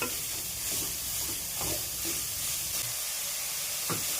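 Beetroot sagu being stirred and mixed in a pan, a steady sizzling hiss with soft scraping strokes of the spoon recurring every second or so.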